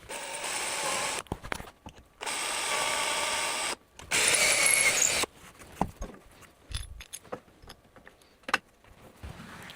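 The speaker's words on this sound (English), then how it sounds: "clamp one side and drill the other" A power drill bores through a support bracket clamped to oak for a router flattening sled. It makes two or three steady whirring runs of a few seconds each, then some quieter clicks and handling noises.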